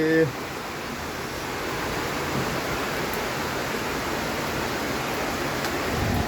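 Steady rain falls on a house and rooftops, an even, unbroken wash of hissing patter at moderate level from start to finish with no speech.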